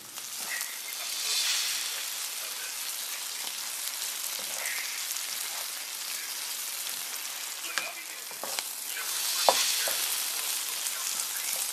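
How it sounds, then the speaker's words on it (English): Caramelized onion and garlic with freshly added thyme and dill sizzle in a pot as the base for French onion soup, a steady crackling fry broken by occasional stirring clinks and scrapes. "That's thyme and dill that I just added into some caramelized onion and garlic."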